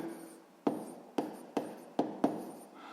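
A hand writes a math equation in Ukrainian, likely pen on paper: five crisp strokes land at an uneven pace, each with a short scratching tail, close and quiet, no voices.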